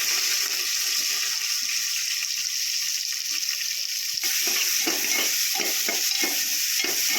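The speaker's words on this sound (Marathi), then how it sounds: "कांदा चांगला लाल परतून घ्यायचा" Onions fry in hot oil with curry leaves for a chicken rassa and are stirred toward a deep reddish brown: a steady sizzle at first, then repeated scraping stirs through the second half, close up and without speech.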